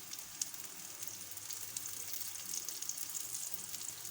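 Ghee sizzles steadily in a pan as mini parathas fry, producing a soft, continuous crackling hiss with tiny pops and no talk.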